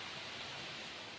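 Light rain drizzles steadily outdoors, a soft, even hiss of fine drops that stays constant and close throughout, with no voices.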